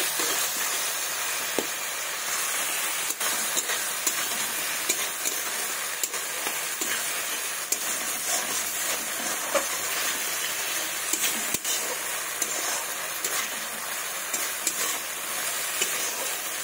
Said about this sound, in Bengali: টমেটো কুচি দিয়ে দেবো। ভালোভাবে কষিয়ে নেব।